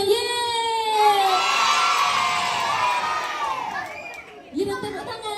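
A group of children at a birthday celebration shout a long, loud, cheering "yeay" together, fading out before a second brief burst of cheering.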